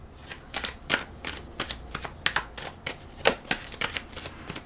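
Tarot cards are shuffled in a steady series of crisp riffling and slapping bursts, close and fairly loud, with no voices over them.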